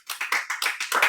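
A classroom claps together in a quick, even rhythm of about six or seven crisp beats, heard close with no talking.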